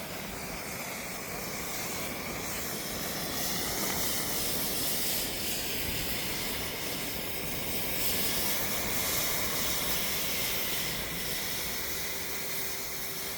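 A chemical mixture burns with a steady, loud hissing flame, its broad rushing roar swelling and easing over several seconds with no voices.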